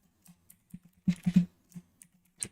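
Keys on a computer keyboard tapped in a short, quiet burst of several clicks, a few isolated taps before and after a quick cluster, with no talking.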